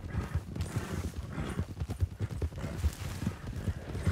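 Horse hooves clip-clop rapidly in a steady galloping rhythm in the video game Red Dead Redemption 2, loud and close, with an occasional whinny mixed in.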